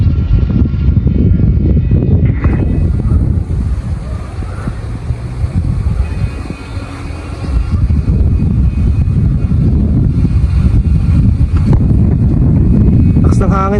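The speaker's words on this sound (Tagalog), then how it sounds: "Grabe yung lakas ng hangin." Strong wind while flying a Vietnam-style kite buffets the microphone with a continuous loud roar and rumble throughout, dipping briefly midway before surging back.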